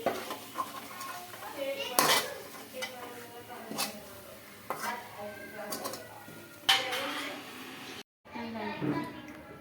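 Browned fried onions are scraped from a pan onto a plate, with repeated metallic spoon-on-pan clanks and scrapes while someone talks over the clatter; a short silent gap comes near the end.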